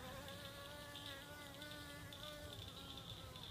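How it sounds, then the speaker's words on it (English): Honeybees buzzing around a hive outside an off-grid cabin, a steady, faint, continuous drone with layered tones and no pauses. "there's bees out here picking it up"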